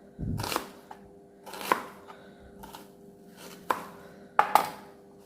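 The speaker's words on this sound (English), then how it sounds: "now I'm going to cut a big onion, not the white onion" A knife chops through a big onion on a board in a home kitchen, giving several separate sharp, close cuts at an uneven pace with quiet gaps between them and no talking.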